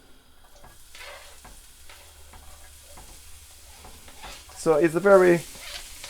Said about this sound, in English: now I'm just gonna burn off my onion